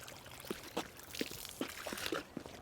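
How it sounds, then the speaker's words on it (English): Water from a garden hose soaks the soil of a flower planter, giving quiet, irregular pouring and trickling bursts with soft splashes, low and close. "I would soak them with watering hose like this"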